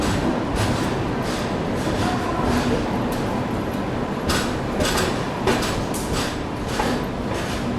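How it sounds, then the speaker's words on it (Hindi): A 22221 CR Rajdhani Express pulls out of Bhusawal and picks up speed, giving a steady, loud rumble of rolling carriages with faint repeated clatter over the track joints throughout. "यहाँ पर भुसावल से जो है अपनी गाड़ी का डिपार्चर हो चुका है।"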